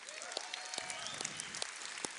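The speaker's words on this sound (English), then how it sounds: "Give yourselves a round of applause for being here" An audience at a 2014 Orlando event applauds, a dense, steady wash of clapping that fills the short moment with no voice on top.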